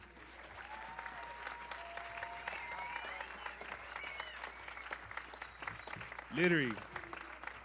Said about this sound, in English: I want you guys to give all these people a round of applause.